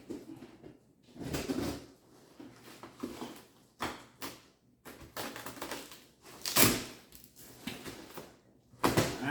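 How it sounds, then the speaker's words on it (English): A screwdriver used as a cutter stabs and tears through the cardboard shipping box of a Dean Stealth Dime electric guitar, giving irregular scraping rips and sharp pokes at close range with brief pauses. "let me cut into it with my wonderful screwdriver here"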